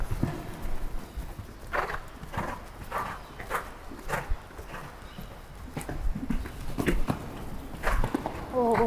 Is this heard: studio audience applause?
no